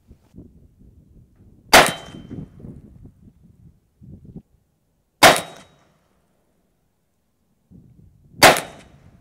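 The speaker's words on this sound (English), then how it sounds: "I'm going to be shooting 3-shot groups because I have to refill after 3 shots" Three sharp, loud shots from an AirForce Texan air rifle fired as a group, evenly spaced a few seconds apart, each a crisp crack with a short decay, separated by quiet handling noise and faint rustling.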